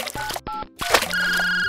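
A mobile phone ringtone in Toca Boca Life World plays a quick sequence of electronic beeping tones, then settles into a steady sustained chime, loud and close.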